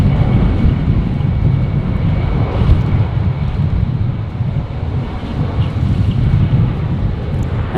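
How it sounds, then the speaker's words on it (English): A Qantas Embraer regional jet takes off from runway 19 left at a windy Brisbane Airport, a steady, loud broadband engine roar mixed with buffeting wind noise throughout. "So Qantas 1933 here on 19 left, off to Adelaide."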